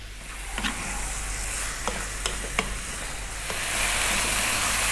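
Chicken curry sizzles in a pan over medium heat with a broad, steady hiss that grows slightly louder toward the end, dotted with a few light clicks from stirring, and no one speaks.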